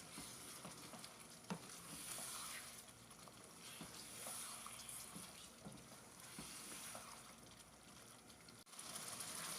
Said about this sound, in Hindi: अब इसके अंदर हम बॉयल किया हुआ मटन ऐड करेंगे और मटन को भी अच्छी तरह से मसाले के साथ फ्राई कर लेंगे।